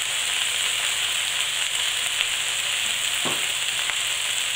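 Chicken fries in a pan with curry added, giving a steady close hiss and crackle of sizzling oil with occasional brief scrapes and pops; no one speaks.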